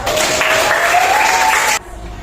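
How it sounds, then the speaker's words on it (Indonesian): Classroom applause from students in an Islamic religious education lesson, a dense burst of clapping that fills the room and then cuts off abruptly near the end. "boleh kasih tepuk tangan untuk kalian semua."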